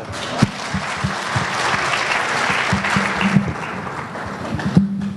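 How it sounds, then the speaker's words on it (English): An audience at a report launch event gives sustained, even applause that fills the room, with a few sharper claps and thumps standing out and little talking. "I think he deserves an applause again, ladies and gentlemen."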